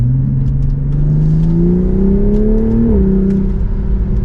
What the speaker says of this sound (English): And a mild acceleration, we are up to speed